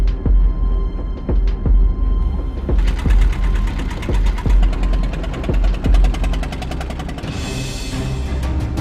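A boat engine runs steadily aboard a fishing vessel near a reclamation site, a loud mechanical rumble with rapid rattling pulses and a few sharp knocks, building into a busier clatter toward the end.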